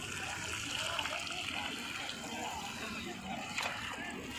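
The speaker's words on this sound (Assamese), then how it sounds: "এইটো হৈছে পুঠিমাৰী নদী" The Puthimari river rushes past in flood, a steady broad wash of flowing water heard from nearby, with faint splashing and a murmuring voice in the background.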